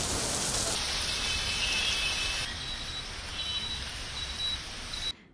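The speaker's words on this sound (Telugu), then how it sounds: "మస్తు వాన కొట్టింది కాదొల్ల" Heavy rain falls in Hyderabad as a steady, dense hiss of rain on surfaces, with a few faint electronic beeps over it and a sudden cut at the end.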